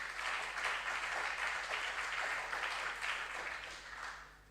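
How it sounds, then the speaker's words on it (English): Audience applause for junior science and maths quiz contestants at a regional qualifier, a steady dense wash of clapping from a crowd lasting several seconds, moderately distant and even. "A round of applause for them."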